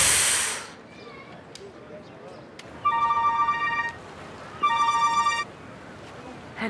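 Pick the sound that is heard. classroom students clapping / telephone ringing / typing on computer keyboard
telephone ringing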